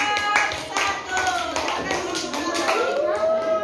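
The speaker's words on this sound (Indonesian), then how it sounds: "Yuk kasih tepuk tangan untuk kelompok 1." Classroom applause for a student group presenting their work, many hands clapping steadily for several seconds with children's voices chattering over it.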